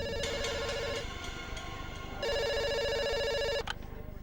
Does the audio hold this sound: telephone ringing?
yes